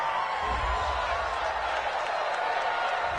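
A home crowd cheers a penalty call in a video game football broadcast, a steady, dense roar of crowd noise with faint scattered claps, holding level throughout with no voices standing out.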